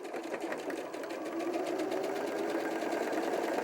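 A sewing machine runs steadily as it stitches the side seams of an 18-inch doll dress, a fast even whirring chatter held close and continuous, with no speech.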